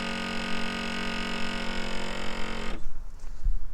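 A Corvette's pop-up headlight motor, thought to be failing, runs to close the lights: a steady electric hum with a droning whine for nearly three seconds, ending abruptly with a low thump and faint rumble after.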